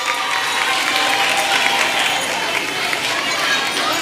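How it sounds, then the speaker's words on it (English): A crowd claps steadily and densely for a winning primary school team at an inter-primary school championship medal ceremony, with loud sustained applause and voices mixed in throughout. "Come on, give the team a clap as they come."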